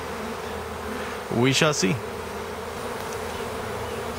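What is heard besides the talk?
swarm of honey bees buzzing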